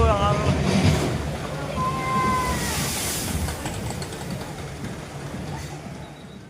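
Rushing water and splashing from the Wonder Splash water ride at Wonderla amusement park in Kochi wash through a broad, steady roar, with faint distant voices and a couple of brief tonal squeals mixed in.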